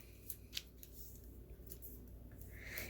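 A paper solar-system strip is folded so the sun meets Jupiter, giving a few faint, crisp paper rustles and creases in a quiet room, with one sharper crinkle near the start.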